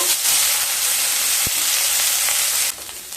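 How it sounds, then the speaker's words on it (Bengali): Chopped onion, garlic and dried chilli fry in a pan with a loud, steady sizzle and a single stirring knock partway through, before the hiss drops noticeably quieter near the end. "পেঁয়াজ আর রসুনকে খুব ভালোভাবে ভেজে নেব"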